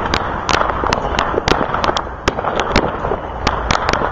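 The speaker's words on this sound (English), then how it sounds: "Look at all those fireworks coming over here." New Year's Eve fireworks bursting nearby in a rapid, irregular series of sharp cracks and pops over a rumbling background, some close and loud.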